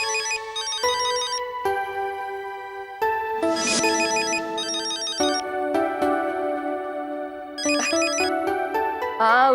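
A telephone ringtone plays loudly and close, a repeating electronic melody of bright tones with short bursts of chiming notes, running continuously with no talk.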